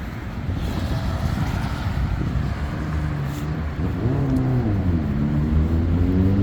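An exotic car engine revs on a downtown Pittsburgh street, with a rising, climbing drone over a constant low rumble, loud and nearby, with no talking.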